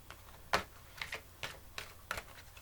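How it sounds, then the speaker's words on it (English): A Dragon Oracle card deck by Diana Cooper being shuffled by hand, soft irregular clicks and riffles of cards, quiet and close with no talking. "So I'm just going to shuffle and see what comes out"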